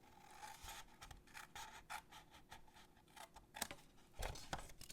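Scissors snip through paper along a score line, a series of short, crisp rasping cuts at an uneven pace, close and fairly quiet with no voices.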